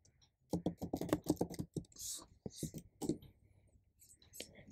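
Fingers tap steadily on a computer keyboard on a macOS machine while entering a web search, a quick run of close clicks followed by sparser keystrokes, with soft speech mixed in.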